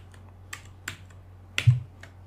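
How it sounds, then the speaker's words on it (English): A few separate keystrokes tapped on a computer keyboard, about five quiet clicks spread unevenly over a couple of seconds against a low steady hum, with no talking. "Now I type drink"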